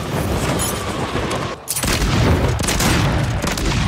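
Akimbo shotguns blasting in Warzone, a dense run of loud, close gunfire with booming reports, broken by a brief lull before the firing resumes just as heavily.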